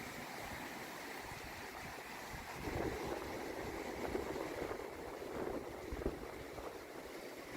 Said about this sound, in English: Don't you just love the sound of the waves?